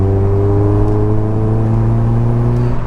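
An old petrol car's exhaust drones steadily while driving, a loud, continuous low engine note with strong harmonic bands, holding nearly constant pitch with slight wavering and no voices.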